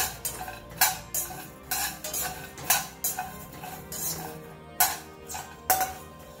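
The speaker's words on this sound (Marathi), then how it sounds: "1-2 ते 3 मिनिटे आपण हे छानपैकी भाजून घेऊया." Rice and peanuts dry-roasting in a pan, stirred with a utensil that scrapes and clinks against the metal in irregular strokes, close up with a soft rattle of grains between hits.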